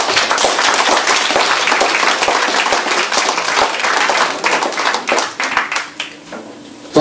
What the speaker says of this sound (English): So it's a round of applause for that, Mick.